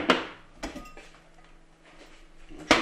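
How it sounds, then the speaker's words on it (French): Clanks of a hot frying pan being moved as olive oil goes in, with three sharp metallic knocks spaced across a quiet kitchen background. "La poêle est bien chaude, je vais mettre un bon filet d'huile d'olive"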